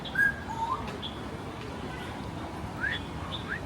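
Small parrots chirp in a city, with a few thin, rising calls scattered over a steady background hiss. The calls are moderately loud and come in short bursts, and no one speaks.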